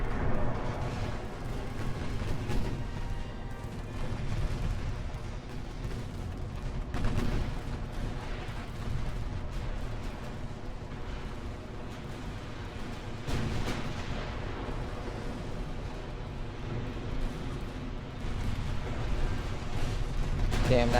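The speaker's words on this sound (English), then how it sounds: "that heavy cruiser managed to get off an entire volley on the Chicago" Heavy cruiser naval guns firing in the warship game Ultimate Admiral: Dreadnoughts, a continuous low rumble of booming gunfire and explosions with a few stronger blasts, dense and sustained.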